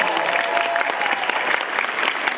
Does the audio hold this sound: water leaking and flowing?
no